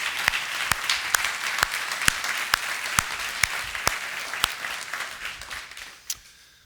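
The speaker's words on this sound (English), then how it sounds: "So would you please give him a round of applause?" An audience applauds a chef at a hospitality talk, steady clapping punctuated by sharp louder claps, fading out toward the end.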